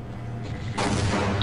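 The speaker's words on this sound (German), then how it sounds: "Jetzt nehme ich meinen Revolver." A revolver gunshot in the PC shooter Half-Life, a single loud booming shot that cuts in sharply after a low rumbling background and rings on with a broad, heavy tail.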